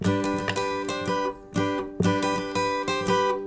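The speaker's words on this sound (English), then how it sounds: "it's a sort of riff that involves strumming, a little bit of a weird rhythm there with the triplet sort of strum" An acoustic guitar strums the bright intro riff of a song in an uneven, triplet-feel rhythm, with two short pauses between bursts of chords. Close and clear.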